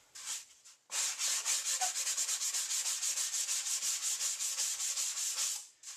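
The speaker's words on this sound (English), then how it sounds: "Gently sand those." Lettering on a foam tombstone is gently hand-sanded with quick, even back-and-forth strokes, a close, steady rhythmic rasp lasting about five seconds after a brief first few rubs, with no talking.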